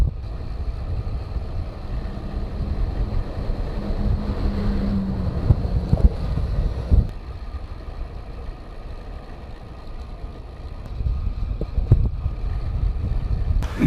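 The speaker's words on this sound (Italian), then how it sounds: "un po' di vento contro." A headwind buffets the microphone while cycling solo near Basaglia Penta, Italy, on a long ride to the sea: a continuous low, rumbling roar with gusty swells, no voices.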